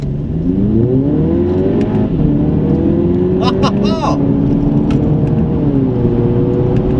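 Audi TT Coupe engine rising in pitch as it accelerates hard in manual mode after a downshift, steady loud drone with a brief higher whine mid-pull, heard from inside the car beneath a voice.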